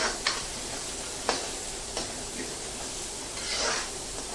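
Onions sautéing in oil in a pan for a garlicky fenugreek curry, a soft continuous sizzle with occasional light clicks and scrapes of a stirring utensil, close and fairly quiet.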